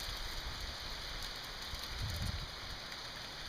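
Hail hitting a truck during a windy mountain storm, a dense, steady patter of small impacts with constant hiss and a slightly heavier burst midway.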